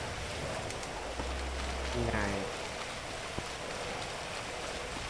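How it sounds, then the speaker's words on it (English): Steady rain in the video game GTA 5 Online, a dense, even hiss that runs through the whole stretch at a moderate level, with a few brief tonal game sounds partway through. "It's raining, I can see my character is all wet and stuff."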